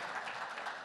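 Applause from an audience welcoming Union minister Bhupendra Yadav onto the stage at a televised session, a dense, steady wash of clapping lasting under a second.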